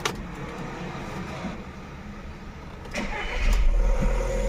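Volkswagen Vento with a cylinder 1 misfire fault cranking and starting, a short crank that catches into a rising, steady idle heard up close with no talk.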